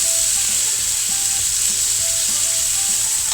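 A steak fries loudly in a hot pan with a dense, steady hiss and crackle close up, broken by faint clinks, and no one talks.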